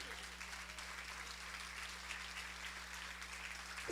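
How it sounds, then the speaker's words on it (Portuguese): Congregation applauding during a church sermon, a faint, steady wash of clapping over a constant low electrical hum, with no pauses throughout. "Aplauda ao Senhor mais uma vez"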